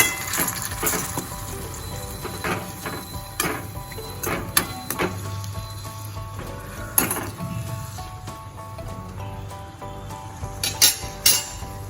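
A spoon scrapes and clinks against a pan while curd is stirred into ridge gourd curry, giving irregular metallic taps and soft wet scraping over a faint background hum, with no talking.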